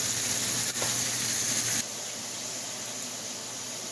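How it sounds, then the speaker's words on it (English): Fish frying in a pan for Jamaican brown stew fish, a steady broadband sizzle that stays loud and continuous, then drops to a quieter hiss partway through, with no one talking. "The fish is over there frying."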